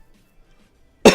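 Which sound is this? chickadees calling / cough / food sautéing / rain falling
cough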